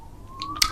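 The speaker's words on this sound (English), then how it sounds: "Sorry about that siren, it's very close." A close emergency vehicle siren gives a brief, steady wailing tone that rises slightly, ending in a sharp loud burst.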